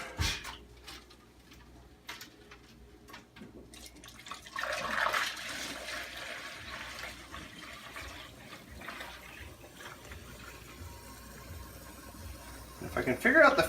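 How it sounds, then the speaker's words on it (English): Homebrew beer wort poured through a funnel into a carboy, a faint trickling and splashing liquid pour that swells briefly and continues quietly, with a person talking over it. "We're going to pour our wort in here."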